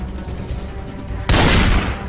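A sudden, loud burst of gunfire from the zombie survival game Project Zomboid erupts halfway through after a quieter stretch of game ambience, then rings and fades.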